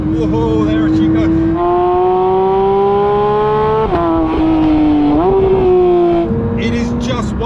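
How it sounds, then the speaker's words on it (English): A Porsche 911 GT3 (992 generation) accelerates hard, its engine note climbing through the revs in long rising sweeps with quick dips at the gear changes, loud and close, with a voice talking over it. "You have to plant your foot to the floor. Whoa, there she goes."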